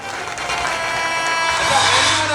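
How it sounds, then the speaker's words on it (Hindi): Applause rises for a teacher at a school Mother's Day event, a steady wash of clapping from the audience that grows slightly louder over a couple of seconds, with a faint tonal background. "चलिए बस जोरदार तालियां हो जाए मैम के लिए"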